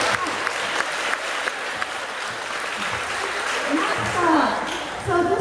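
Audience applause fills a middle school award ceremony, a steady wash of many hands clapping throughout, with a voice speaking briefly over it near the end.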